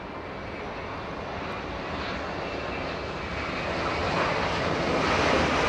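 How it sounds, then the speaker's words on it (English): A Virgin Atlantic airliner arrives at LAX with a steady, broad engine roar that swells gradually louder, heard alone without voices. "we don't want to miss the arrival of Virgin Atlantic 7"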